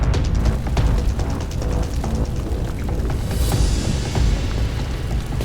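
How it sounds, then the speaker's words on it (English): A ship explodes in the video game Lost Judgment, heavy booming rumble with rapid crackling bursts that continue across several seconds, a second surge of debris and hiss arriving midway. "This ship just exploded!"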